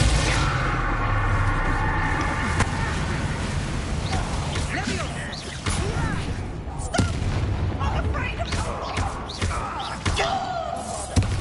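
The Bombarda spell in Hogwarts Legacy goes off in a series of loud booming blasts and heavy thuds, with debris clattering and rumbling throughout, dense and close.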